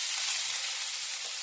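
Oil heating in a frying pan for a shawarma roll filling, about to receive onion, gives a steady, soft hiss of light sizzling close by with no talking.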